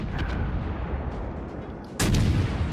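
Ship guns firing in the naval video game World of Warships: Legends, a heavy booming salvo that cracks out sharply near the end over a dense, rumbling battle background.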